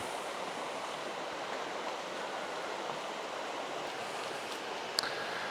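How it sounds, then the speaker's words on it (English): Steady rushing water flows without pause, a broad even roar of a river in Idaho heard up close. "the river has dropped considerably down here. Still sounds good"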